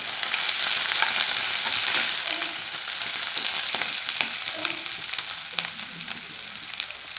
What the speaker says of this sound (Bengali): এগুলো ভাজা হয়ে আসলে এখন পেঁয়াজ কুচি অ্যাড করে নিলাম।